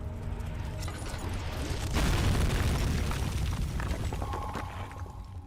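An explosion in the game Amnesia: The Dark Descent, set off in a blast area by a thrown rock, swells into a deep, loud rumbling boom partway through, then slowly fades into a lingering roar, with no talking.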